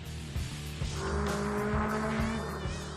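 Touring race car on a hot lap of Killarney Raceway, a loud close engine howl with sharp revving and gear shifts, rising in pitch as it accelerates, with no talk.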